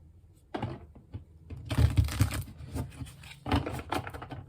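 Tarot cards riffle and slap together in short bursts, a quick shuffle followed by a longer one, close by and fairly quiet.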